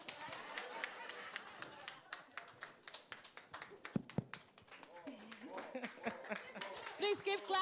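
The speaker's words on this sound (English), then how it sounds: "Please keep clapping." A ceremony audience claps in quick, uneven patter, fairly faint and sounding like a modest group rather than a roaring crowd, with a speaking voice over the clapping partway through.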